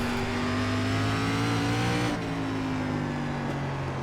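An SRX stock car engine drones loudly and continuously while racing at South Boston in iRacing, holding a steady high roar with a brief shift in pitch midway.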